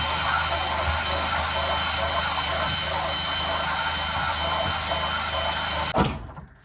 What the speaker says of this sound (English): Find a wire wheel that may help the situation.